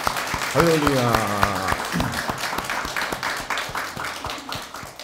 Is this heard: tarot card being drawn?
no